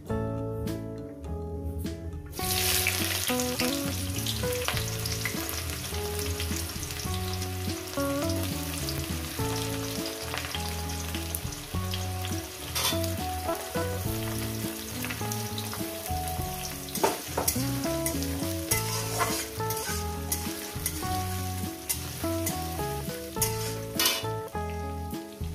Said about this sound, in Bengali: পেঁয়াজটাকে আমি 2-3 মিনিট আমি ভেজে নেব